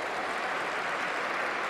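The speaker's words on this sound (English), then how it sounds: "Can we give another big round of applause to all of our honorees here today?" Steady applause from a crowd at a school awards ceremony, a dense continuous patter of clapping that holds at an even level throughout without pause.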